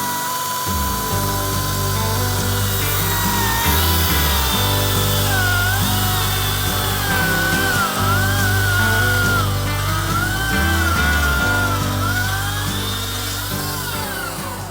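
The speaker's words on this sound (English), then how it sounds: "So I like to just kind of rest the chainsaw right up against it like so, just a little bit off, and get it started" A chainsaw cuts through a timber beam while building a timber frame shed, its engine droning loud and steady with shifting pitch as the chain bites, running continuously close to the microphone with no talk.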